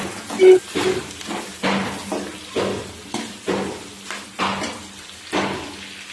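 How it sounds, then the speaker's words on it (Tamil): Spatula scraping and knocking in a pan while sautéing brinjal kootu with green chillies and coconut, a steady rhythm of soft scrapes and taps repeating roughly every second, close by with no talk. "எல்லாத்தையும் சேர்த்து நல்லா வதக்கி விடுங்க"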